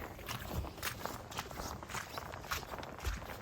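Footsteps of someone in waders trudging through mud in the rain while chasing wild hogs, a soft irregular series of squelching steps, close and fairly quiet, with no talking.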